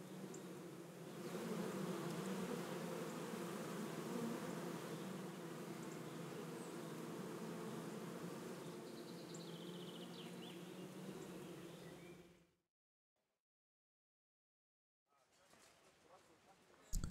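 Bees buzz steadily around beehives in the video game Kingdom Come Deliverance, a dense, continuous drone with faint insect whine on top that cuts off abruptly, leaving near silence before soft rustling returns.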